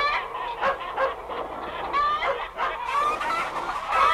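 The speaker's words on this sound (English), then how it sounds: "Shooing the hens into the roost." Hens cluck and squawk in a busy, agitated flurry, several birds close by with repeated short calls throughout.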